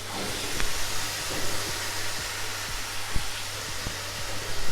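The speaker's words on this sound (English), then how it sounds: "They are 7 to 8 medium potatoes, and I'm going to fry them a little bit" Seven or eight medium potatoes dropped into hot oil in a pan for a GSB-style ambat batata, giving a steady broad sizzling hiss with faint scattered clicks and pops, no voices.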